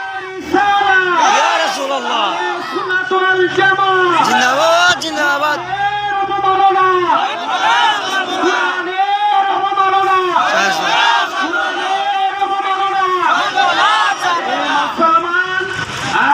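A large crowd at a rally chants Allahu Akbar in loud, rhythmic call-and-response waves of massed voices, repeated over and over, close and powerful throughout.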